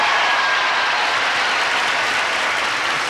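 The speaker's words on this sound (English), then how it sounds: "let's all greet our stars right now with a big round of applause" Big round of applause from a studio audience greeting the stars of a variety show, a loud, dense wash of clapping that holds at full strength from start to finish.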